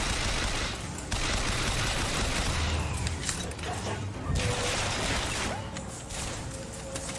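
Dense, sustained gunfire from the video game BioShock Infinite, with rapid bursts and repeated shots layered into a loud, continuous barrage and occasional heavier booms, close and dominant throughout.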